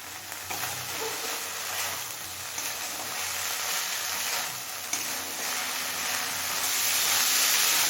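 Kachki fish chochori sizzles and fries over a high flame as the cooking water boils off, a steady broadband hiss with soft stirring scrapes, close and continuous without any talk.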